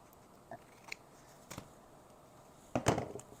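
Scissors trim excess paper from a handmade card, giving a few sparse, quiet snips with pauses between them and a slightly louder cut near the end.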